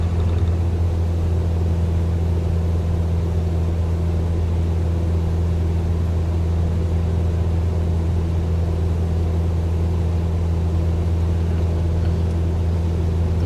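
A light aircraft in Microsoft Flight Simulator climbing after takeoff with flaps retracting over the Dutch coast near Zandvoort: a steady, loud engine drone with a constant low hum, unbroken throughout.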